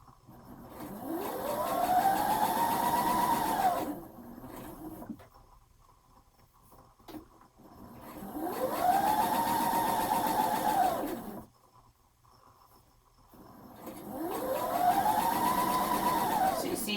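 A sewing machine stitches a summer romper in three sustained runs of steady whirring motor hum, each speeding up then easing off, separated by quieter pauses, close and fairly loud.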